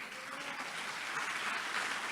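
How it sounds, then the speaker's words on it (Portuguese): A church congregation applauds during a sermon, a faint, distant wash of clapping that holds steady and builds slightly over a couple of seconds. "Você pode aplaudir o Senhor por isso?"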